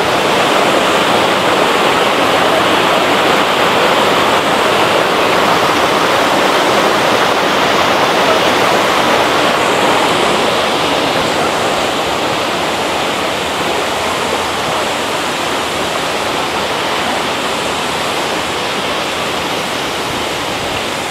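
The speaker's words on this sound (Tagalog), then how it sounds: "Ang ganda ng falls." Mantayuman Falls in Cebu pours steadily as a loud, continuous roar of rushing water, close and unbroken throughout with no voices over it.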